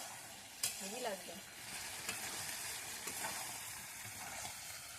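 Chicken skin, liver and gizzard being sautéed in a pan, a faint, steady frying hiss broken by a few light scrapes of a spatula, no voices.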